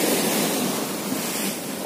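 Sea waves at Paradeep beach, where a river meets the ocean, give a steady broad roar of surf with no distinct breaks, loud and continuous throughout.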